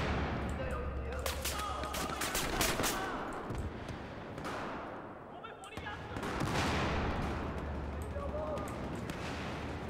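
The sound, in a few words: gunfire in video game Battlefield 1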